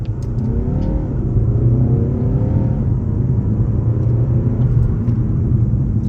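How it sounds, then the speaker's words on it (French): A BMW 120d accelerating hard with gear changes made on the paddle shifters, heard from inside as a steady, loud engine drone and road rumble that climbs in pitch, with small dips at each shift. "on va se refaire un petit coup d'accélération cette fois-ci. Je me mets aux palettes directement."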